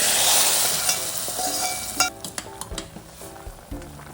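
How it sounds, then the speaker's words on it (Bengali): Browned onion and garlic poured into a tomato sour curry, a loud hissing burst at first that fades into lighter sizzling, with scattered clinks of a spoon against the pot. "আমি এখন এটাকে আমার টমেটোর টকে ঢেলে দিব"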